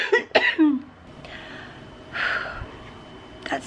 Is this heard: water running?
no